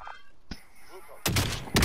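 Shooter video game gunfire: a sharp shot near the midpoint, then two loud broadband bursts of rapid fire toward the end, with people talking over the game audio.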